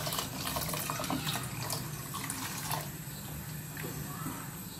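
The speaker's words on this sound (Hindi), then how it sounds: "एक गिलास पानी डालना है थोड़ा थोड़ा करके," Water runs and splashes steadily into a pot of kadhi curry, a continuous trickling pour with faint kitchen clatter underneath.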